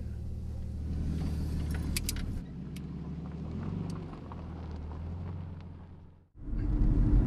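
A car pulls away with a steady low engine rumble that dips, then surges back louder as it drives off, and no one speaks.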